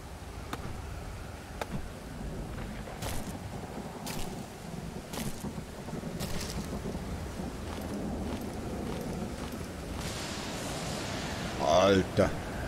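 Heavy storm ambience in the survival game Stranded Deep: a constant wash of wind and rain with scattered cracks, swelling to a louder gust near the end, with a voice talking over it.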